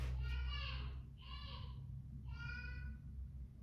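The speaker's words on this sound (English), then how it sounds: "I don't know if you guys can hear my daughter. She's counting to 10." A voice counting aloud in short sung-out bursts, fairly close, with a steady low hum underneath.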